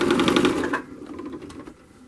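A sewing machine overstitches a seat cushion with a fast, even run of needle clatter for under a second, then slows to a few softer, scattered stitches.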